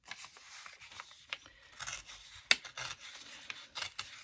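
Scissors snip through a folded junk-mail paper envelope, a series of close, crisp cuts and rasping paper rubs in an irregular rhythm, with one sharper snip partway through.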